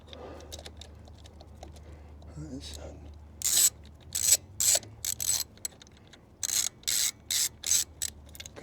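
Ratchet tightening a 10mm bolt with washer on the chain guard cover of a Classic 350 motorcycle, heard as several short, loud bursts of rapid clicking separated by pauses.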